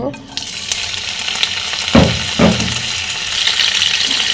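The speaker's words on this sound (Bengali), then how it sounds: "তেলের ভিতরে আমি চিংড়ি মাছ দিয়ে দেব" Shrimp dropped into hot oil in a dry wok, frying with a steady close sizzle and two brief louder bursts as they hit the oil, no talking.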